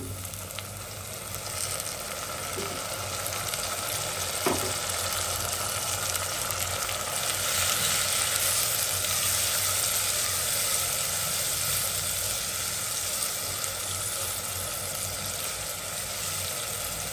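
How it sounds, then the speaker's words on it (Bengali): A blended paste of ginger, garlic, onion and cumin fries in a hot pan with a steady, even sizzle that carries on unbroken and alone throughout. "আদা রসুনটা পাঁচ মিনিট ভাজা হোক"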